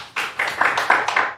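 Brief burst of hand clapping from a small audience at a community association meeting, a few loose overlapping rounds of claps over about a second, fairly close.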